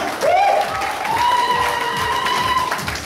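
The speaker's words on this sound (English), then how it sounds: "can we have an applause for all the winners and performers?" Audience applauding winners and performers at a Hindi and Tamil dance and song event: steady crowd clapping throughout, with a sustained whistle or cheering tone riding over the applause.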